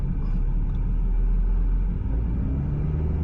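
A car engine held at raised revs with throttle applied before the clutch is brought up, a steady loud low rumble with no clear change in pitch.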